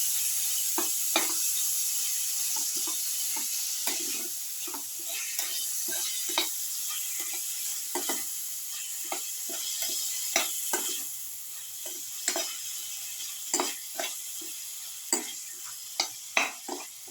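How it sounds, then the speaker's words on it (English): Tomato pieces fry in a pan with a continuous hissing sizzle, broken by frequent close scraping and stirring knocks that grow louder toward the end. "Put in the tomato pieces. Thoroughly fry."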